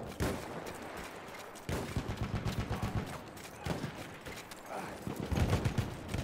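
Bursts of MG15 machine gun fire in the Battlefield 1 multiplayer shooter: several close, rapid volleys with short gaps, punchy and fairly loud throughout, joined by distant battlefield shots.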